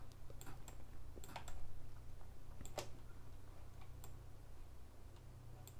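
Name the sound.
computer keyboard keys pressed in Photoshop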